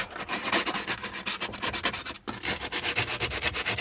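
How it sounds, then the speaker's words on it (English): Car parts rubbed down hard with rough sandpaper to strip paint and rust, heard as fast, loud, rhythmic scratchy strokes close up, with one brief pause midway and no speech. "by giving them a good rub down with some nice rough sandpaper"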